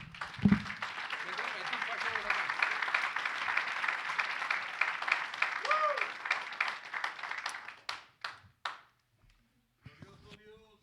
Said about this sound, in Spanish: Dale palmas al Rey, pues.